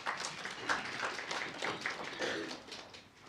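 Audience applause at an apprenticeship graduation and launch event, steady dense clapping sustained for a few seconds at moderate level with no talk over it.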